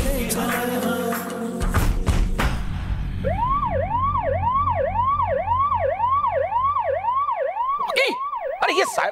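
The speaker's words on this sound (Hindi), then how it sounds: "ये सर पे सायरन लगा के घर में क्यों घूम रहा है भाई?" A wailing electronic siren worn as a headpiece in a home rises and falls in a steady repeating whoop, loud and close, starting after a few seconds of other noise and cutting off near the end.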